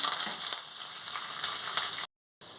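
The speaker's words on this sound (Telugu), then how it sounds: "కరివేపాకు గుప్పుడు వేసుకుంటున్నాను ఇది కూడా వేయించుకోవాలి" A handful of curry leaves crackling in hot oil for tempering, a bright, close sizzle with a few sharp pops, cutting off briefly into silence before the frying sound returns.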